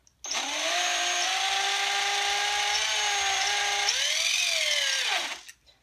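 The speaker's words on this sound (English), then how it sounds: "having a drill just makes everything quicker" A power drill runs steadily for about five seconds, boring holes in a Hori arcade stick, with a sustained high whine that dips and rises in pitch near the end before stopping; close and loud, no talk.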